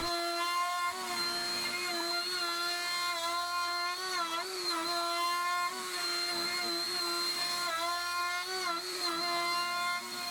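A LUNYEE 3020 Nova CNC router with a bowl bit mills wood, a loud steady whine with strong overtones that dips and rises slightly as the cutter moves.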